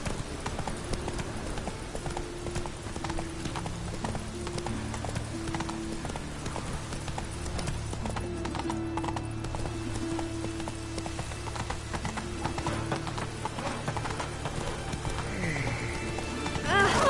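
Roach, a horse in the video game Witcher 3, gallops with steady rapid clip-clop hoofbeats throughout, a whinny near the end, over continuous game ambience that sounds like rain.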